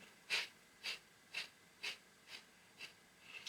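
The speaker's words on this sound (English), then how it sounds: "So kapal bhati only focuses on the stress of the exhale" Seven sharp, forceful nasal exhales of kapalbhati yoga breathing, evenly spaced about half a second apart in a steady rhythm, close and clear with near silence between each puff.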